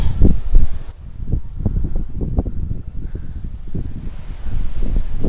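Strong outdoor wind buffets the microphone in gusty rumbling bursts with some rustling, loud and continuous, around a traditional building in Lukang, Taiwan.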